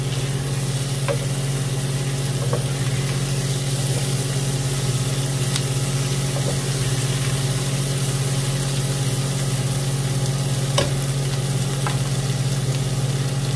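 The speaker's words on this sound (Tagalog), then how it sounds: "Pwede na natin ilagay yung ating tofu. Pag hinalo, dandahan lang ang paghalo." Tofu frying and being stirred gently in a pan, a steady even sizzle beneath a constant low hum, with a few faint scraping taps spaced through the clip.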